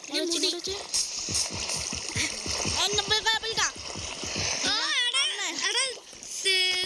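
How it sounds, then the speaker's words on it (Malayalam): Feet splash and churn water repeatedly while excited children's voices shout and squeal over it throughout. "വെള്ളത്തിൽ കാലിടുന്നു."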